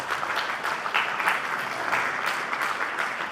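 An audience at a panel event on Taiwan's 2024 elections and relations with the United States claps steadily, sustained applause from a room of people, fairly close and even throughout.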